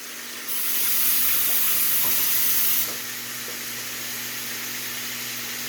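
A roast seared in hot oil over high heat gives off a loud, steady sizzle and hiss. It swells sharply for a couple of seconds, then settles into a continuous fry with no talking.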